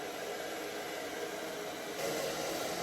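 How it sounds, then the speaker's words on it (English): A hair dryer blows steadily and close while hair is blow-dried, making a broad, even whoosh that gets a little louder and brighter toward the end. "now blow drying"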